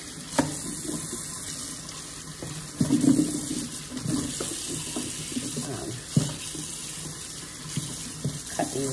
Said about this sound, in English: Okay, so I'm gonna wash my celery.